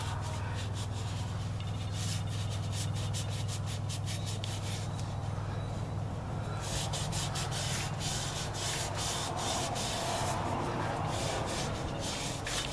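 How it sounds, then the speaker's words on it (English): Sandpaper or a scuff pad rubbing the brake seal surface on a 2001 Dodge Ram 3500 dually's rear hub, rapid back-and-forth scraping strokes, close and loud, coming in dense bursts with brief pauses. "Take a little piece of sandpaper or scuff pad. Finish cleaning any of the residual crap builds up inside the seal or outside the seal"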